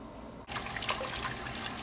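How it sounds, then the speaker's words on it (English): Running water pours suddenly and steadily as homemade butter is rinsed, a close, even splashing that starts after a brief quiet moment and continues. "this is the fourth and final quick rinse here"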